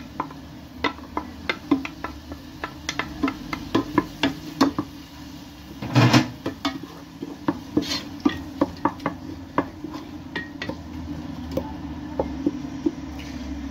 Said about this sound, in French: Je les mets dans l'huile.